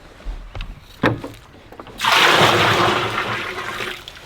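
A few clunks and knocks, then a sudden loud rush of stored rainwater pouring out of a container steadily for a couple of seconds.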